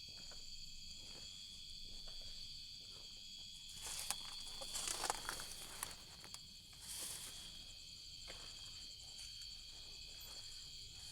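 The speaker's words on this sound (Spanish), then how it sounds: "Solamente se pueden escuchar los sonidos de los animales, de los grillos." Crickets chirp steadily in a quiet night setting, a high continuous trilling with faint rustles and footsteps passing briefly in the middle.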